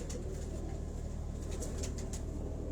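Pigeons cooing at a farm house, a soft low murmur repeating steadily over a constant background hum, with faint bird chirps flickering in the distance.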